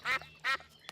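A duck at a pond quacks twice in quick succession, close and clear, followed by a short fainter call, with no talking.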